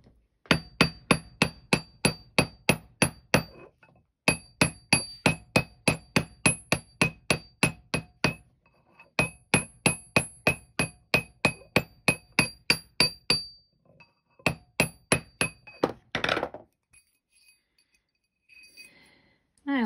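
A hammer taps metal in quick, even runs of sharp strikes, broken by short pauses, before a few scattered final taps.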